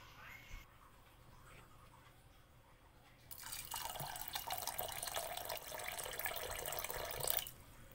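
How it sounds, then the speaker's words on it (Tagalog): Tap water gushes steadily for several seconds into a pot of rinsed glutinous rice being readied for boiling into biko, close and fairly faint, starting and stopping abruptly. "Lalagyan natin ng konting tubig para pakuluan."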